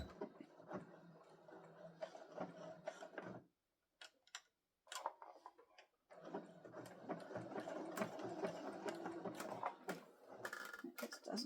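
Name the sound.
sewing machine stitching fabric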